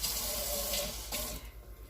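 Tap water runs steadily into a kitchen sink while a container that held sofrito is rinsed out during Spanish red rice cooking, a close, continuous splashing gush that thins out toward the end.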